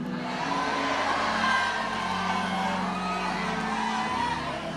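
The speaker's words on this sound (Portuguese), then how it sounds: "se prepara para dar un grito de gloria con toda su fuerza" A church congregation lets out a loud, sustained shout of glory together, cheering and whooping as a crowd for several seconds at a steady high level.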